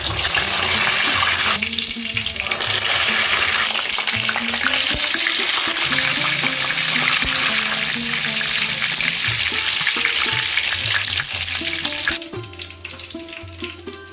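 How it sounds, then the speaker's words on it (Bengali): Brinjal slices fry in hot oil over a medium flame, a dense, steady sizzle filling the whole stretch, with low clinks and tones underneath before the hiss drops off near the end. "তেল গরম হয়ে গেছে এবার আমি বেগুনগুলো দিয়ে দেবো"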